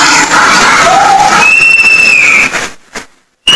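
An audience at a stage event cheers and whistles loudly as the Andhra Pradesh Speaker, Ayyanna Patrudu, is welcomed onstage; the crowd noise is dense and continuous, then cuts off abruptly near the end.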